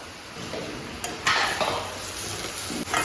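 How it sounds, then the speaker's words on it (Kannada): Chopped onion pieces frying in hot oil give a steady close hiss of sizzling, with a few light scrapes and utensil taps over about three seconds and no voices. "ಕಾದ ಎಣ್ಣೆಗೆ ಈ ತರ ಹಾಕಿ ಫ್ರೈ ಮಾಡ್ಕೋಬೇಕು"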